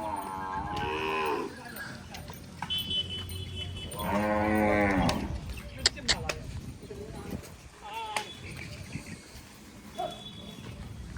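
Kankrej cows in Banaskantha moo as they are untied, two long, loud calls standing out near the start and middle, with people talking and scattered knocks and clatter around them.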